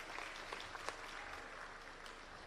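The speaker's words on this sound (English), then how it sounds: "So if you can give a round of applause for that as well," Faint, distant applause from an audience at a PRASA mixed development launch, steady clapping with a few sharper individual claps standing out.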